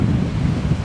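Strong wind buffets the microphone at Vizhinjam beach in Trivandrum, a loud continuous low rumble blending with the wash of surf.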